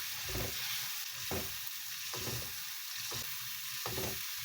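Steady sizzling and bubbling of a thick chili sambal sauce cooking in a pan, with a few louder spoon stirs scraping at regular intervals.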